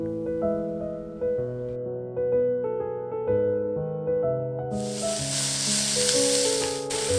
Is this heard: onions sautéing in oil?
yes